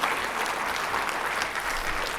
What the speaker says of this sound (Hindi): तो तालियां जोर से बजनी चाहिए अपने इंस्टीट्यूशन के लिए